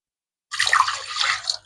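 Water from a glass is poured onto split moong lentils in a pot, a single brief splashing pour lasting about a second.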